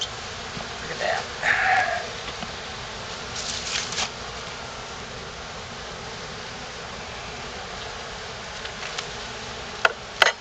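Honey bees buzz around an open hive during a spring inspection, a steady hum under a man's speech with brief louder swells near the start.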